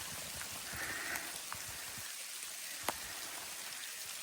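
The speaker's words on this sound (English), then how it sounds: "I think that's rain, Jamie. It's raining!" Soft, steady rain patters faintly on a surface, with a few scattered drips standing out against the quiet hiss.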